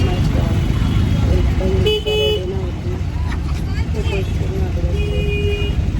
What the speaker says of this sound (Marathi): बाप काय ट्रॅफिक होती